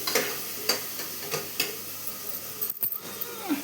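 Onion, garlic, green chili, curry leaves, cumin and mustard seeds frying in oil in a pressure cooker, a soft continuous sizzle punctuated by a few sharp pops and clinks.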